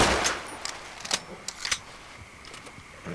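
Pistol shots from the video game Red Dead Redemption 2, a quick series of sharp cracks fired in succession within about two seconds, then quieter ambience.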